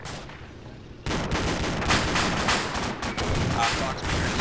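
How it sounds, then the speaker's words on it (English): A LAW rocket fired at a T-72 tank in a video game: a sudden loud blast followed by sustained heavy gunfire and booms, with voices faintly underneath. "I've hit him with my fucking law rocket"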